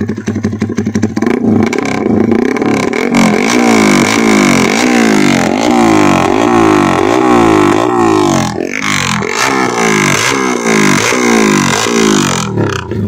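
An upgraded Tobaki Jet 4 jet ski engine runs loud and close, with a rough, pulsing rhythm as it is revved repeatedly and rises and falls over a clattery idle.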